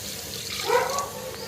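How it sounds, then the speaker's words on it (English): Water from a cup poured into a pot of washed basmati rice, a steady splashing stream rising in the middle and trailing off, close by with no talk. "So I'm adding in 2 cups of water."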